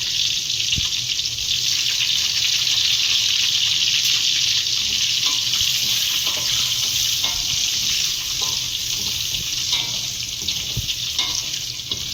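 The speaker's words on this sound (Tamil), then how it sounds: "இப்போ நல்லா எல்லாமே பொரிஞ்சிடுச்சு. இப்போ பூண்டு போட்டுக்கலாம்." Oil and garlic fry in a pan with a loud, constant, bright sizzle and occasional soft stirring knocks underneath, steady and close throughout with no voices.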